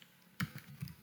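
A few keystrokes on a computer keyboard while a SQL query is entered in an editor, with sparse, irregular clicks that sit close and quiet against a faint background.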